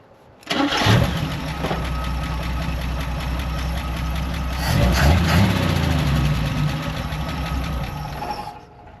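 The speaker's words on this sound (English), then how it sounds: "It's a Clardy old 6-cylinder, but it sounds really good" Old inline six-cylinder engine in a 1960 Chevy Bel Air cranks and catches, then settles into a steady, loud, close idle with a slight rise in revs midway before shutting off.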